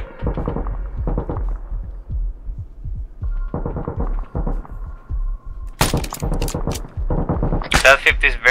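A .50 caliber machine gun mounted on a technical hammers away in an Arma military game, its bursts coming in repeated rapid clusters that grow louder and sharper near the end, with team radio chatter mixed in.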